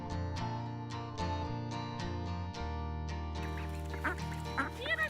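Ducks quack repeatedly in a steady, loud series near a farm gate with an old sign blocking a hole, the calls overlapping later as more birds join in.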